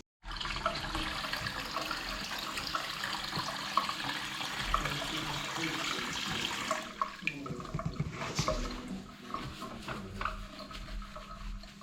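Water gushes steadily into a toilet cistern being filled right up to overflow, a loud continuous rush for about seven seconds, then settles into a thinner, uneven trickle and splashing.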